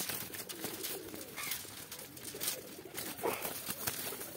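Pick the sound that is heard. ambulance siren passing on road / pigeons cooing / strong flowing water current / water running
pigeons cooing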